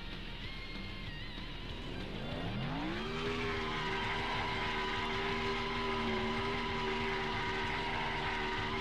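A NASCAR race car engine in the video game NASCAR Thunder 2003 at New Hampshire rises in pitch, then holds a steady, even drone across the rest of the stretch at moderate loudness.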